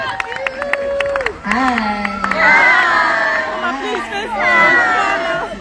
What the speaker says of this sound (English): Please, a round of applause for Ambassador Ronke Koshimani.